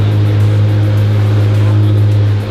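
An Apollo supercar's engine idles steadily and loudly nearby, a deep, even rumble with no pauses across the whole moment.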